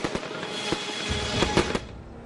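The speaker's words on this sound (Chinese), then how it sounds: "人们欢呼普京的决定，燃放烟花，挥舞俄罗斯国旗" Fireworks pop and crackle in a quick irregular series of sharp bangs over a continuous noisy wash, ending abruptly, set off by celebrating crowds in eastern Ukraine.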